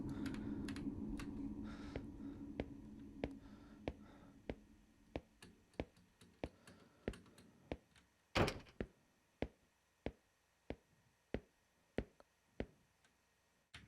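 Keys on a computer keyboard are pressed one at a time in a slow, steady series of sharp clicks during a Korean indie horror game, with one louder thunk partway through and no talk.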